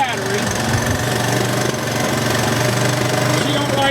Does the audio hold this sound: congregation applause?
no